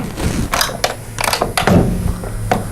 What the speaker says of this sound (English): Now I'm hitting the pin.